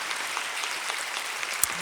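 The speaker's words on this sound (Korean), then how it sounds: "박수하겠습니다." Congregation applauding during a Sunday church service, right after new catechumens are proclaimed; a steady wash of many hands clapping at moderate level, with no speech over it.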